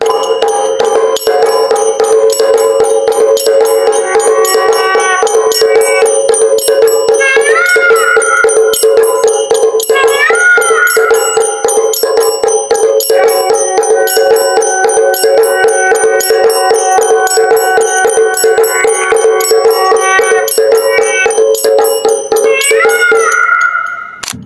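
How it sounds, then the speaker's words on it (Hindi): A Shiv Crafts electric aarti machine with two cymbals, a bell and a drum plays a loud, continuous, rhythmic clang of ringing metal and beats, with no talking. "शिव क्राफ्ट्स की ये आरती मशीन में आपको 2 झालर, बेल और ड्रम मिलने वाला है"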